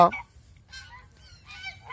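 Old geese on a farm give loud, brassy honks: one sharp call at the start, then two more bursts of honking, close by over a faint low hum.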